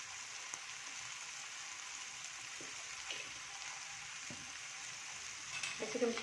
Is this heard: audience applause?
no